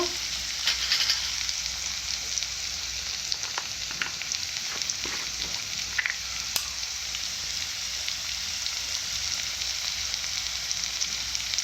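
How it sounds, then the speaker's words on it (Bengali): Steady sizzling of spices, garam masala and nuts with fennel, frying in a hot pan for singara filling, a continuous close hiss with faint occasional scrapes and no talking. "দিয়ে ভালো করে ভেজে নেব"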